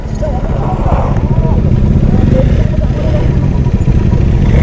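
Several Bajaj Dominar 400 motorcycles pull away one after another on a group ride, a steady loud engine rumble with rising revs and clatter, and people talking underneath throughout.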